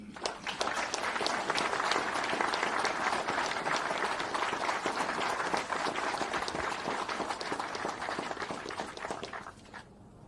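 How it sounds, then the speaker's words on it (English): A crowd of soldiers at a Fort Bliss military ceremony breaks into sustained, dense applause for about nine seconds, loud and steady with a few whoops, then fading out near the end. "let's extend a round of applause for Roman Sandoval."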